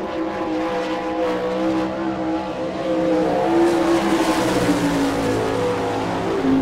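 A sprint car with a Maxim chassis and Gertie engine screams around the dirt track at Rossburg, Ohio on a solo qualifying lap, its loud engine note rising and falling steadily as it passes through the corners.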